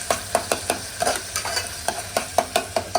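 Onion and tomato frying in a pan, stirred steadily so a broad sizzle is broken by a regular run of scraping, clinking spatula strokes roughly every third of a second, close and fairly loud.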